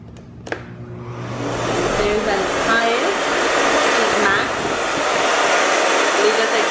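A Miele Complete C3 Limited Edition canister vacuum cleaner switches on with a click and spins up into a steady, loud whirring roar that holds close by throughout.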